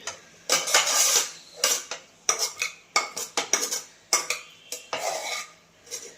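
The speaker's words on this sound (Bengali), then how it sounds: "এই কড়াটা তুলে রেখে দিচ্ছি, ঢাকা দিয়ে চাপা দিয়ে রেখে দেবো, গরম থাকবে" A metal wok is lifted and covered with a lid, producing a series of sharp clanks and scrapes at close range in irregular bursts. Brief quiet gaps fall between the hits.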